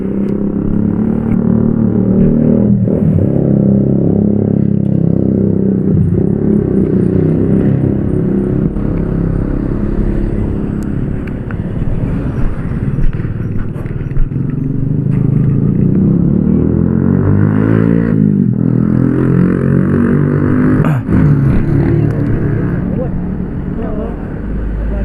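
A motorcycle engine revving on a road trip to Pameungpeuk, Garut, a loud droning that rises and falls in bursts close to the microphone, mixed with wind buffeting and occasional talking.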